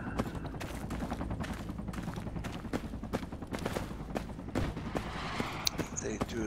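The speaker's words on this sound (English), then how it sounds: "I just thought it was gunfire." Rapid bursts of gunfire from the Project Reality military game crackle in repeated sharp volleys, some close and some distant, over steady background noise, with occasional voice chatter mixed in.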